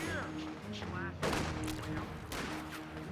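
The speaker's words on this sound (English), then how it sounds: "And they're shooting at us" Company of Heroes 2 battle gunfire crackles in scattered bursts, with a louder volley partway through, mixed with other game sounds at a moderate level.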